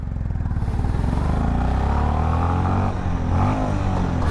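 Single-cylinder 350 cc motorcycle, a Honda CB350 or Royal Enfield Bullet 350, riding in first gear, with a steady loud thumping exhaust beat close by and a slight pitch rise as it pulls.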